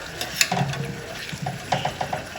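Chicken pieces for Pepsi chicken sizzling in a pot as a spoon stirs them, with soft scraping and clinks over a steady frying hiss, close and brief.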